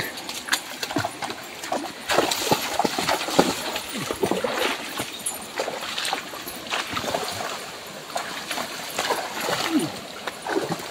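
Horses wading through deep water on a rough, rocky farm trail, with irregular splashing and sloshing at close range, people talking throughout.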